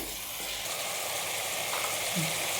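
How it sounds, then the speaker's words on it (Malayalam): Mutton pieces frying on high flame for a mutton curry, a steady broadband sizzle with occasional scrape of stirring, close and continuous throughout. "അത് ഒരു 2 മിനിറ്റ് നല്ല ഹൈ ഫ്ലെയിമിൽ വെച്ച് നന്നായി ഇളക്കി കൊടുക്കുന്നുണ്ട്"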